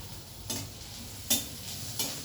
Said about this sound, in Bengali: এবার পেঁয়াজ আর রসুন আমি ভাজা ভাজা করে নিচ্ছি।